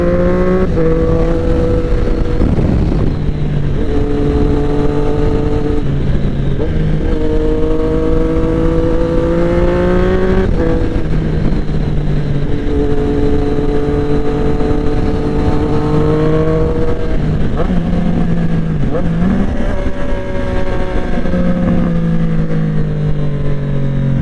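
A Triumph 765RS motorcycle with an SC Project exhaust and quickshifter rides along in sports mode, its engine loud and close, revving up through repeated quick gear changes, each climb in pitch cut off by a shift, continuous throughout.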